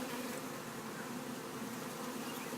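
Honeybees swarm during a removal from floor joists, giving off a continuous, dense buzz that stays even and moderately quiet throughout, with no voices.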